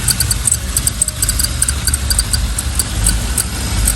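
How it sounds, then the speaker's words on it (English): A 1992 Chevrolet Camaro Z28 engine idles steadily up close, a deep continuous rumble with a light, rapid ticking running over it. "Engine running smooth though."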